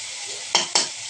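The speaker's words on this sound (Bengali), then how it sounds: "নাড়াচাড়া করে নিতে হবে।" Spices with turmeric and salt sizzle steadily in a pan of pointed gourd curry while a spatula scrapes across it twice in quick succession, close and bright, with no voices.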